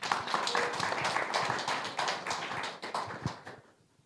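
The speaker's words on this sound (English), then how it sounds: "Applause." Audience at a venture capital panel event applauds, a dense patter of hand claps at moderate distance that thins out and fades to near silence at the end.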